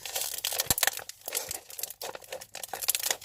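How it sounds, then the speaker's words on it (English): Plastic packaging of Twizzlers rainbow candy straws crinkles and tears open in close, irregular bursts of rustling and crackling. "Let's open the package."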